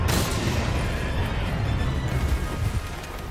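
Heavy bowgun firing in Monster Hunter World Iceborne, a loud booming blast at the start followed by dense, sustained rumbling combat noise with no talking.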